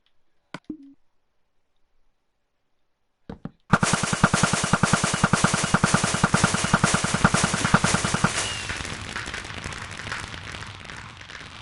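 A dense, rapid string of crackling pops and bangs from fireworks launching in Minecraft bursts out after a few quiet seconds, loud and relentless, then thins into a lingering crackle and hiss.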